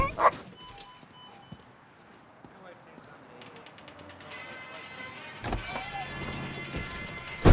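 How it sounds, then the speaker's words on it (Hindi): A dog barks and yips in short bursts, near and sharp, mixed with clattering noises and voices from a comedy film scene. "इसलिए तू मुझ पर भौंक रहा है"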